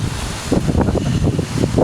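Wind gusting outdoors in steady broadband rushes with low rumbling buffets against the microphone, continuous and fairly loud throughout, with no voices.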